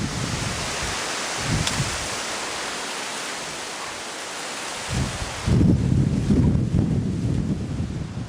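Strong wind buffets the microphone in a continuous rushing roar at a fishing swim, easing for a moment, then gusting back louder.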